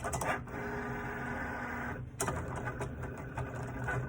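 A Cricut cutting machine cutting out a heat transfer image, a continuous mechanical whir and buzz with a brief pause partway through, close and steady, no talking.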